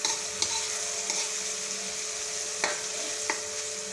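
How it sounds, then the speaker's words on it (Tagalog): Garlic and onion sautéing in a pan give a steady close sizzle and hiss, with a few sharp clicks of a utensil stirring against the metal. "habang kinigisa niya yung bawang at saka sibuyas"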